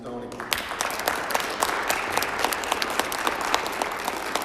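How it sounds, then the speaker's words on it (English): An audience claps steadily through a spring athletics signing ceremony at a school, a dense, even wash of applause from a crowd with a few louder claps standing out near the microphone. "let's give these three a round of applause"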